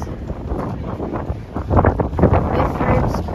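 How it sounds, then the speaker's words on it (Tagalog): Strong, cold wind buffets the microphone outdoors near a bakery and meat shop at evening, a steady rumbling roar that swells in louder gusts midway, with no talking. "Oh, nilipad yung kamay ko sa hangin. Sobrang lamig."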